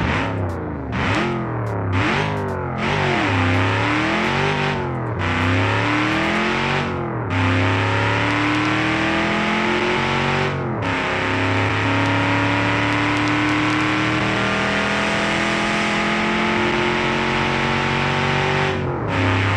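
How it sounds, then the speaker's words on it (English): A loud naturally aspirated V8 car engine in the video game BeamNG.drive revs hard again and again, pitch sweeping up and down between shifts, then settles into a steady high drone. "which is a naturally aspirated V8"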